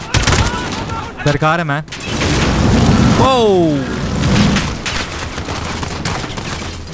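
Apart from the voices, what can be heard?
gun battle in the video game Call of Duty: Modern Warfare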